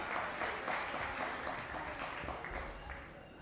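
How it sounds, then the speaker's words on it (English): Audience applause at a hall of fame induction ceremony in an evening hall, a steady, moderately distant wash of clapping that tapers slightly toward the end. "let's give her a round of applause as she comes to the stage"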